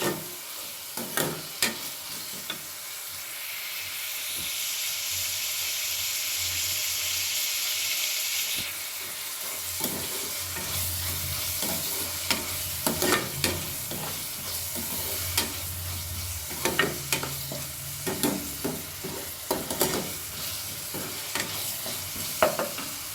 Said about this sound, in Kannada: ಚೆನ್ನಾಗಿ ಸ್ವಲ್ಪ ಫ್ರೈ ಮಾಡ್ತಾನೆ ಇರಿ. ಚೆನ್ನಾಗಿ ಫ್ರೈ ಆಗ್ತೀವಿ.